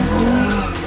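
Ferrari California tyres skid on a slippery road, a loud, close, broadband squeal and rush under steady engine noise lasting under a second, with no talk.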